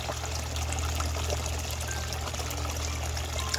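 A patio water fountain in a garden trickles and pours continuously, a steady soft splashing flow with a low hum underneath, close by and uninterrupted.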